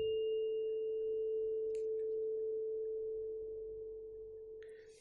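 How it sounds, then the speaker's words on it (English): A struck tuning fork rings as a single steady, pure tone that holds throughout and slowly fades, with a couple of faint clicks along the way. "when we strike this tuning fork, listen to the sound."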